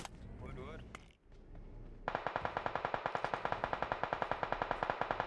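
Automatic gunfire in the mobile battle royale game PUBG Mobile rattles in a fast, steady burst of evenly spaced shots after a short lull, with players speaking briefly beforehand.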